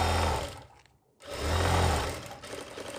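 A sewing machine stitching the back of an elastic pant at a half-inch margin, a steady whirring run that pauses briefly, then resumes in another continuous stretch of close, loud stitching.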